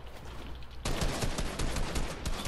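Gunfire in the Fortnite video game: after a quieter stretch, rapid bursts of shots erupt and continue loudly, close and dense, with no talking.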